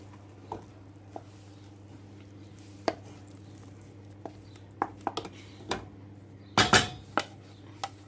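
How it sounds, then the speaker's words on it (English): Mashed potato for samosa filling tipped into a pan, with scattered spoon taps and scrapes against metal, a soft squishy thud, and a low steady hum behind. "So the mashed potato is ready. Just tip it into the pan."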